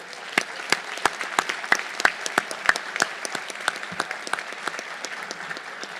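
A crowd applauds at a public safety academy graduation, a fairly sparse, moderate clapping with a few sharp, close claps standing out over the steady patter before it gradually eases.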